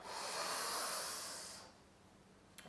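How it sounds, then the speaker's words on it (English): One long, airy inhale during a meditation breathing exercise, close and breathy, fades after about a second and a half into near silence. "And one more deep breath."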